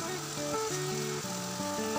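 Ginger, garlic and onion paste fries in a pan with a steady sizzle heard close up, while music plays over it.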